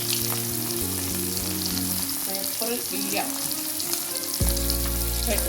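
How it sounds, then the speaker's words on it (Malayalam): Fish frying in a pan for Kerala-style pothichoru, a steady loud sizzle running throughout with stirring clatter, a brief voice speaking over it. "നമ്മുടെ മീനും കൂടെ ഒന്ന് പൊരിക്കട്ടോ"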